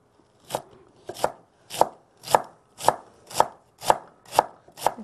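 A knife cuts through lettuce on a board in nine crisp, evenly spaced chops, about two per second, close and clear with no talking.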